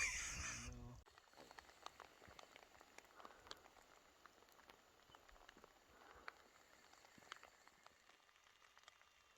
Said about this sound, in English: It's just been raining